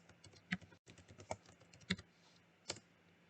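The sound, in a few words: typing a name on a computer keyboard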